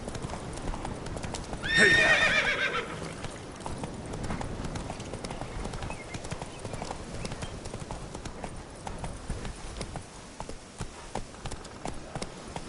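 Hoofbeats of the horse Roach clip-clop through a game world in The Witcher 3: Wild Hunt, with a loud neigh near the two-second mark, then steady galloping under background score; a voice shouts briefly.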